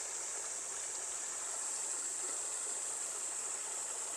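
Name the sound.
cool water being poured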